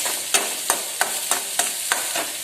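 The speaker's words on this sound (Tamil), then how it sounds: "பச்சை மிளகாய் வதங்கிடுச்சு" Green chillies sautéing in a pan for a leftover bakoda vadai curry, a steady sizzle broken by regular stirring scrapes about every third of a second, close and fairly loud with no talk.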